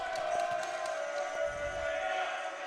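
Niagara Knights supporters cheering in the crowd at a men's volleyball championship quarter-final, a steady indoor murmur of voices with a few sharper shouts rising over the hall noise.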